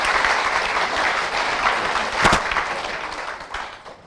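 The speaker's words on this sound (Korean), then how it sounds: "박수 치려면 제대로 한번 쳐보시자고요." An audience at a company sales presentation claps loudly and continuously, a dense wash of many hands that peaks briefly and then slowly tapers off.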